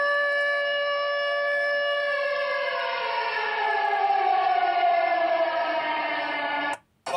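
A civil defense siren sounds a red alert, its several-toned wail sliding slowly downward in pitch and holding loud and steady before cutting off abruptly near the end.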